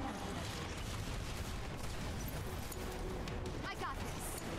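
Turret gunfire in the video game Final Fantasy 7 Remake, a dense, continuous barrage of shots and booms that fills the whole stretch at a steady loudness.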